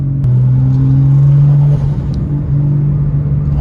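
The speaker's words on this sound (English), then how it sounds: "you can hear the blow-off valve and the turbo, like they sound so good" A Nissan S13 with a turbo and new exhaust drones steadily from inside the car under load, a loud low engine hum with a short dip as the throttle lifts; a brief sharp burst could be the blow-off valve.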